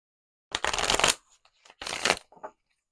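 Tarot cards shuffled by hand in two quick riffling bursts, a short pause between them and a faint flick at the end, close and clear with no voices.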